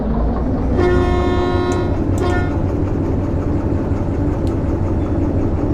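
In the Derail Valley train simulator, a train rumbles steadily along the track while its horn blasts loudly for about two seconds, then the low rolling noise continues alone.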